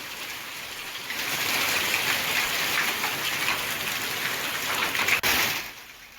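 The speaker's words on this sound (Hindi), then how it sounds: "तेज गर्जना और बिजली चमकने के साथ बारिश शुरू हुई" Steady heavy rain with hail pours down during a storm in Rajasthan, a dense continuous hiss of drops on surfaces with one sharp crack near the end and no voices.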